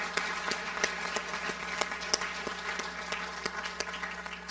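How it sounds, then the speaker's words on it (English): An audience at an honors convocation applauds with scattered, sparse claps standing out over a soft background, fairly faint and without speech. "Can we have one more round of applause for all of these outstanding"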